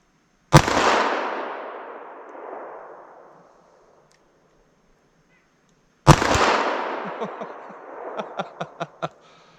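Two loud, close gunshots from a .327 Federal Magnum revolver firing Buffalo Bore ammunition at an outdoor target, each a sharp blast with a long rolling echo; a series of fainter rhythmic knocks follows the second shot.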